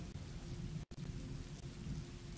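Rain falling in the game Road 96, a soft, steady wash of drops with a low rumbling undertone, briefly cutting out and ending with a sharper burst.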